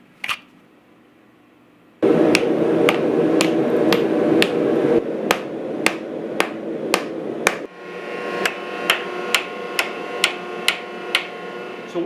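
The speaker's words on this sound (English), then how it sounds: "So we are finished forging the knife." A hammer forges a steel bushcraft knife. A dense, ringing burst of metal strikes is followed by evenly spaced, sharp blows that ring out loudly and close, with nothing else heard.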